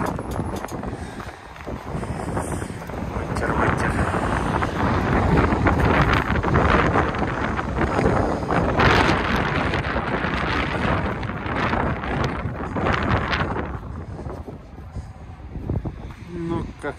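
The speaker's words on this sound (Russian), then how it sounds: "Уф, ветер." Wind buffeting a microphone while driving along the Kazan ring road, a steady broadband roar that swells and fades throughout, loud and close, with no clear talk over it.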